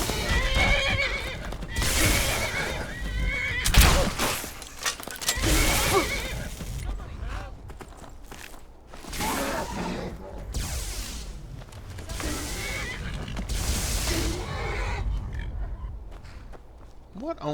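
Repeated horse whinnies and snorts in a video game ring out among hoofbeats and clattering, with a voice talking now and then over the commotion.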